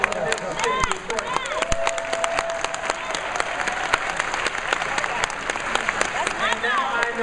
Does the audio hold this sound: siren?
no